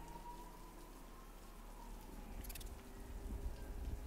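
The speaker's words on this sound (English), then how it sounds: "One thing Rocksteady really did well in this game is the rain" Rain pours down in Batman: Arkham Knight, a soft continuous wash of falling water that swells slightly toward the end, with a brief faint chirp partway through.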